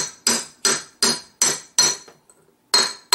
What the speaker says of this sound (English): It'll go from this very hollow sound to a very high pink sound once it's in all the way.